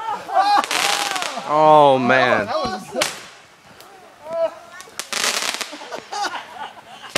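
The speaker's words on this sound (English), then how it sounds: "We're doing some homemade rocket launchers with fireworks in them." Sharp whooshing launches and cracking pops of fireworks fired from homemade rocket launchers, several in quick succession, with excited voices and shouts over them.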